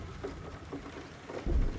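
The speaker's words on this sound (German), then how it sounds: "Es regnet." Rain in the video game GTFO falls as a steady, faint hiss, with a low rumble swelling near the end.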